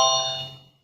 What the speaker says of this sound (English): That was an in-drive request.